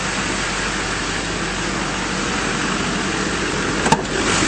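A 2006 Chevrolet Silverado 2500 with a 6.6L LBZ diesel idles steadily without change, a dense low rumble with one brief click near the end.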